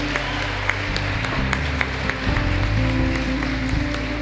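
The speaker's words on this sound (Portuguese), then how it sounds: "aplauda a história da cruz" A church congregation claps and applauds for the story of the cross, a dense, sustained wash of hands with some scattered cheering, set over a low musical hum.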